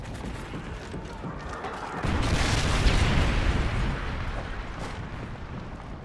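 A Predator missile strike in a Call of Duty: Modern Warfare 3 Domination match lands as a deep, rumbling explosion that swells suddenly over background gunfire, then slowly fades into a lingering roar.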